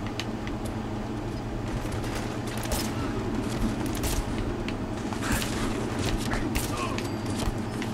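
Weapon fire in Fallout 4, a dense, steady stream of rapid shots and crackling bursts that stays loud and continuous from start to finish.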